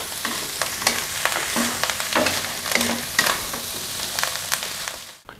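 Wai Wai instant noodles and pork stir-fried in a pan, with a steady close sizzle broken by repeated scraping and tossing strokes of the spatula, no voices.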